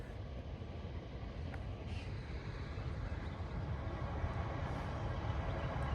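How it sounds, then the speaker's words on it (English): A low, distant rumble builds gradually as a train passes far off behind the ruins of Williamstown racecourse in Melbourne, steady and faint with no talking. "And you can hear the train in the background there"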